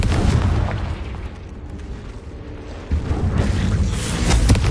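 A Confringo fire spell explodes in a Harry Potter wizard game set in a cave, a heavy booming blast with a rolling low rumble that eases off, then a second burst swells near the end.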